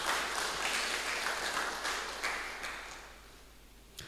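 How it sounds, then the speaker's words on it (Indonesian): A church congregation at a youth anniversary thanksgiving service applauds, a dense wash of many hands clapping that swells, then gradually thins and fades toward the end, ending with a faint tap. "Bisa beri tepuk tangan sekali lagi kah?"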